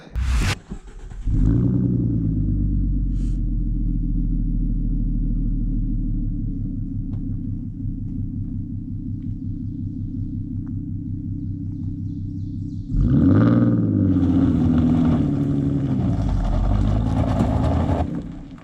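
A Ford Mustang's engine rumbles as the car is driven out over a rough mountain-trail road, a deep, steady low drone that swells again near the end as it accelerates.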